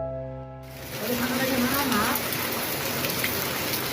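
Heavy rain pours down in a dense, steady hiss that fills the air after a brief tonal intro, loud and unbroken to the end.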